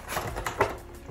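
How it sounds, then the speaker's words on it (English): A cheap makeup brush working foundation onto skin, giving soft, close brushing and patting strokes in a brief, quiet run of scratchy swipes. "I'm sorry about the noise. I'm putting on my makeup brush."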